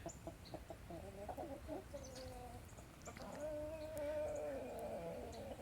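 Backyard chickens clucking in the snow, a string of close, quick clucks followed by a longer, rising drawn-out squawk, over a soft, steady outdoor background.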